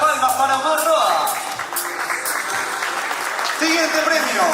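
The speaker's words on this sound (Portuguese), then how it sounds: "Fuerte las palmas para Omar Roa." An audience at an award ceremony applauds a recipient coming up to collect a prize, with steady clapping throughout and voices talking over it.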